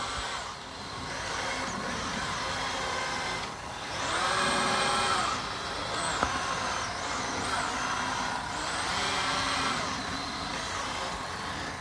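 A Roborock or Dreame robot vacuum-mop mopping a floor with muddy paw prints, a loud, steady motor whine that rises and falls in long swells over a continuous rushing drone; no talking.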